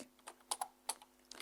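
Light, irregular keystrokes tapped on a computer keyboard, close and quiet, with no voices.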